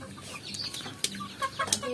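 Free-ranging local chickens pecking at roti cluck and chirp in short, scattered bursts, close and moderately loud, with a few sharper calls and a faint flutter of wings.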